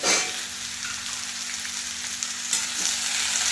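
Chopped tomato and green chili hitting hot oil in a pan, an even crackling sizzle up close with a faint low hum beneath and a light clink of stirring near the end.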